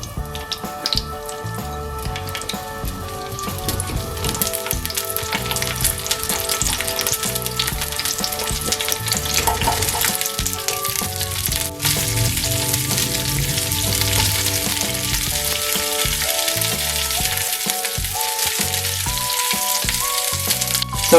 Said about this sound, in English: Then we're gonna add in the whole shallots, and then we will fry it until golden brown